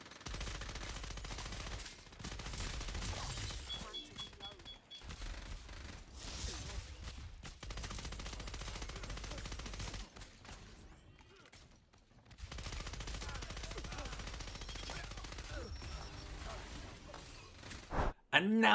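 Automatic weapon fire in the video game Scavengers, long sustained bursts of rapid shots with brief pauses between them, loud and continuous with a quieter gap midway.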